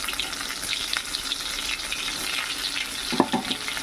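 Stuffed pointed gourds (potol) frying in a pan, a continuous close hiss of sizzling oil with a couple of brief clatters near the end.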